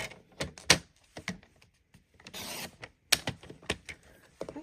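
A paper trimmer cuts strips of designer series paper up close, producing scattered clicks, a slicing swish and handling rustles.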